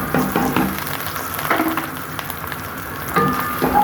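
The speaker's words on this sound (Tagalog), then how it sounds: "Ilagay natin hanggang mag-light brown ang garlic." Garlic frying in a pan with onions gives off a soft sizzle under intermittent stirring clatter and a few scraping bursts, moderately close.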